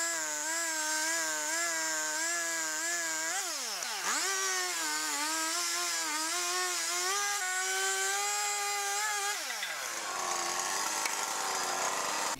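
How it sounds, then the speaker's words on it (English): A Stihl Farm Boss 271 chainsaw whines steadily, its pitch dipping and rising as it bites into a wooden block, then revving down near the end; no talking. "For the first big rough cuts, I used the Steel Farm Boss 271 chainsaw"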